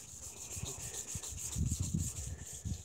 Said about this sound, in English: It's when you wet sand it.